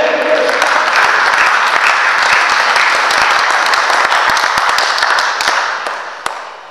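A church congregation applauds at an evangelist's consecration service, dense, loud and sustained clapping that fills the room before thinning and fading near the end, with a few sharper isolated claps.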